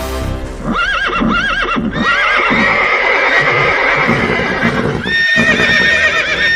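Horses whinnying loudly and repeatedly up close, shrill rising neighs overlapping one another, with hoof clip-clop beneath, an audiobook sound effect with no speech.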